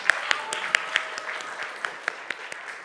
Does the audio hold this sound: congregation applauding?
yes